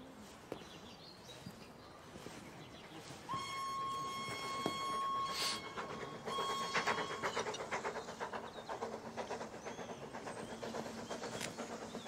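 A steam train passing in the countryside, faint and distant, with a long whistle tone and a rising, steady chuffing rumble that builds and holds as it goes by.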